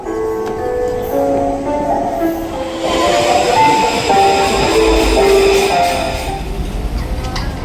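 A Taipei metro train rolls along while riding inside the carriage, with a steady rumbling hum and rising squeals from the wheels, loud and close, and faint voices in the background.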